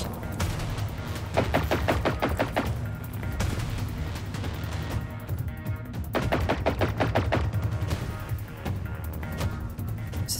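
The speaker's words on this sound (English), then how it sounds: "They're definitely shooting at something." Gunfire in the game Generation Zero, with repeated rapid machine-gun bursts rattling in clusters and heavier booms beneath, loud and continuous across the whole stretch without talking.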